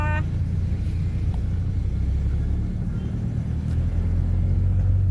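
Road traffic, a continuous low rumble of cars and engines rolling past, steady and moderately loud with no distinct speech.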